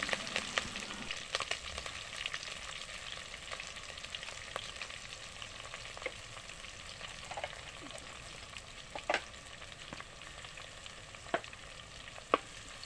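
Cumin seeds and finely chopped green chillies frying in oil, a soft continuous sizzle and crackle with occasional sharp spatula clicks against the pan, fairly quiet and close, no talking.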